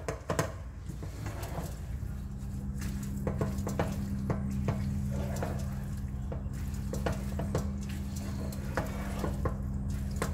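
Chilies, salt, tomato and yogurt are stirred in a pan over low heat, giving a soft steady sizzle with repeated scraping and tapping strokes of a utensil throughout.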